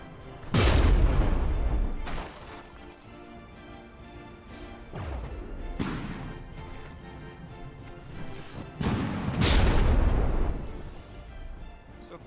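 Warship cannons fire in a naval battle between frigates in From The Depths. Heavy booming shots and impacts arrive at irregular intervals, loud and reverberant, with rumbling between the blasts.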